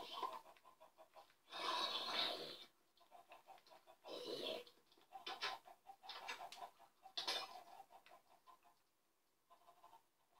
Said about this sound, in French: Dégage la poule.